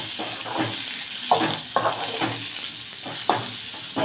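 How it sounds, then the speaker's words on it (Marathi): Eggplant fries in a pan with a constant close sizzle, and stirring adds a few scraping strokes. "वांगे आपल्याला छान फ्राय करून घ्यायचे आहे"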